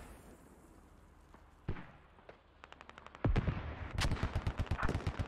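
In a Squad match, a lone boom lands, then comes a crackle of distant gunfire, and after that a loud run of rapid detonations and automatic fire up close, with no voices.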